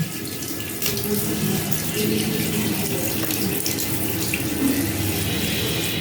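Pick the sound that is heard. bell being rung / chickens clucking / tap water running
tap water running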